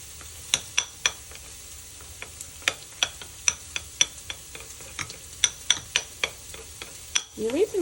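Spoon stirring a sauce mixture of whipping cream and seasonings for pork chops in mushroom gravy, a steady run of sharp clinks and scrapes against the bowl, close and fairly loud, with no talking.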